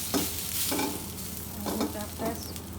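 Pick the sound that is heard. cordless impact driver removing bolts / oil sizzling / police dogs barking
oil sizzling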